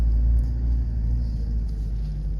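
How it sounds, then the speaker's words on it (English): A Mitsubishi Pajero engine pulls in first gear, giving a deep, steady rumble from inside the vehicle that stays loud and fairly even, with no talking. "Good throttle response though. I mean, it's super torquey."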